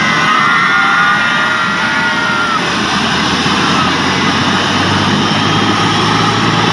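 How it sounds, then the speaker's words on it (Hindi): A helicopter lifts off from a helipad at an outdoor political rally in Kaimor, its engine and rotor making a loud, steady roar that fills the whole clip without a break. "हेलीकॉप्टर अपने हेलीपैड से उड़ने के लिए तैयार है।"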